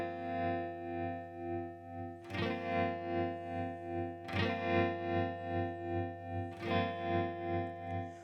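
Distorted guitar chords strummed through a Chase Bliss Audio Gravitas analog tremolo pedal, the pulsing volume wobble speeding up as the rate rises; three strums ring out with sustained, wavering tails, no voices.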